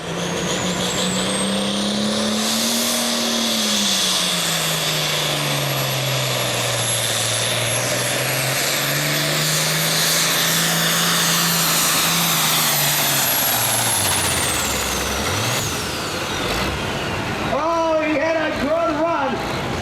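A powerful tractor-pulling engine roars continuously at a tractor pull, its pitch swelling and dipping as it strains under load, loud and close with a crowd or announcer faintly underneath.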